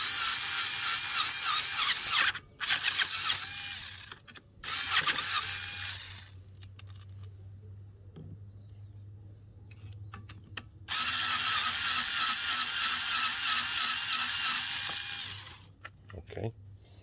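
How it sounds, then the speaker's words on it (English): A power tool backs screws out of a SUR-RON electric bike bracket, with two long, steady whirring runs, the first broken by brief stops, heard up close with quieter handling noise in between. "Then you can use your power tool to remove the screws."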